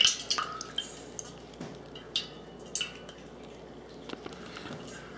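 Excess water drips from a mushroom grow kit substrate, scattered drops falling one after another with an uneven rhythm, close by, over a quiet hiss.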